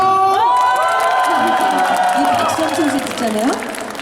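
Concert audience at a trot music healing concert in the Ajou University gymnasium in Suwon, loudly cheering, shouting and clapping in a packed hall, with shrill high-pitched screams and whoops rising over the applause.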